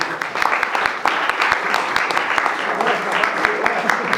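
An audience applauds at the end of a talk, with dense, steady clapping close by and individual claps standing out throughout.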